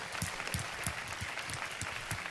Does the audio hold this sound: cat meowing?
no